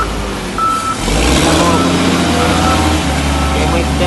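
Diesel truck engine rumbling low and steady up close after a start, with a short high reversing beep early on and talk nearby.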